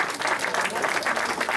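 Brief applause for a children's municipal council at a town New Year's greetings event, a dense burst of many people clapping together at a steady, fairly loud level.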